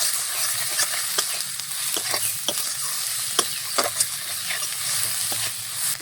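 Spices with turmeric and chilli powder being stirred and fried in oil for Bengali egg khichuri, a steady close sizzle broken by repeated sharp scraping strokes of the spoon in the pan, with no talking.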